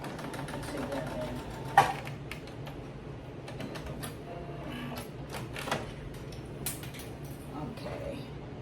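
A sewing machine stitches over elastic in a quiet room with light, intermittent mechanical clicks and whirs, plus one sharper knock near the start.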